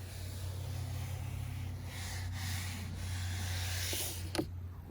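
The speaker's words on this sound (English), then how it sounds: "Bauer sander for the most part" A Bauer power sander smoothing rough edges, its motor humming steadily with a constant abrasive rasp, close and continuous, ending with a brief clunk.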